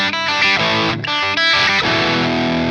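Enya Inspire smart guitar on its Train preset, a loud, close, overdriven tone with a few strummed chord stabs and short gaps before a longer ringing chord, no speech.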